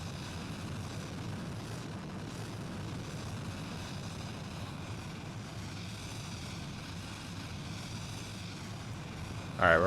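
An Avro Arrow jet in BeamNG.drive roars steadily at a moderate level as it accelerates toward afterburner, a continuous engine drone with a brief sharp noise at the very end.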